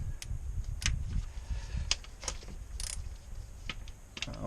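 A ratchet breaks loose the valve cover bolts on a 2006 Toyota Tacoma, giving scattered sharp clicks and ticks close by, with no talking.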